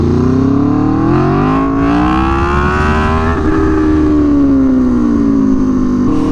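Aprilia Tuono V4 motorcycle fitted with an SC-Project CR-T exhaust revs hard and very loud, the engine note rising and falling smoothly through the upper rev range with a crisp, sustained roar throughout.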